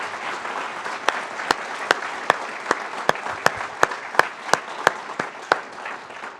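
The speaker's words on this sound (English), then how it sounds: "I was going to ask for another round of applause, but the audience beat me to it." Audience applause closing a university distinguished lecture, a soft wash of clapping with one person's sharp, evenly spaced claps standing out loudly nearby.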